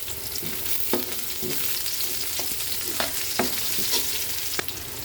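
Garlic, ginger and onion sauté in a pan with a steady sizzling hiss, broken by several distinct spatula scrapes and taps as the mix is stirred, close and clear.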